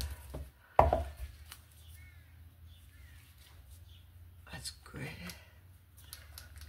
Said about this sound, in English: we'll just mix the first color